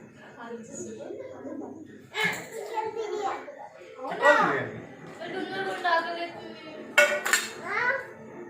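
Toy pots and utensils clink and scrape as pretend curry is stirred, with light metallic taps scattered through the clip beneath children's chatter and laughter.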